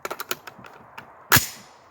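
A Palmetto AR-10 rifle firing .308 ammunition lets off its last shot as one loud, sharp crack near the end, after a run of lighter mechanical clicks and taps.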